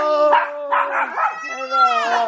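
Dogs howl and yip in excited greeting, drawn-out tonal cries overlapping with whimpers, loud and close, with a person speaking among them.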